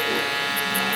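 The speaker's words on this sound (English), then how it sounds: "I'm using my Stylecraft X360 GZ clippers with the lever fully open" Stylecraft X360 GZ hair clippers run with the blade lever fully open, giving a steady, close electric buzz that holds level for the whole second.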